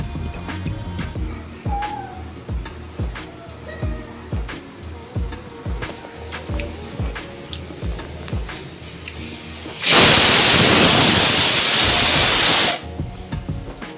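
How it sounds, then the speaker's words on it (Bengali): A pressure cooker cooking rice lets out a loud, steady hissing whistle of escaping steam lasting about three seconds, following a stretch of rhythmic knocking and clattering kitchen sounds. "তোর ভাতের সিটিটা পড়ছে, এখন একটু পড়ুক, কারণ বাড়ানো ছিল"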